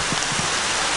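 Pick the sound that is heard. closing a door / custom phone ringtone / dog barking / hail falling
hail falling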